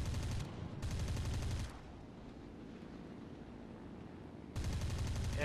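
A La-7 fighter plane's machine guns in the War Thunder air combat game fire in three loud, rapid bursts, separated by a quieter stretch of engine drone, with the final burst opening up near the end.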